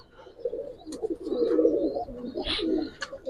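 Domestic flying pigeons coo in soft repeated murmurs close by, with a few brief chirps and rustles over a quiet background.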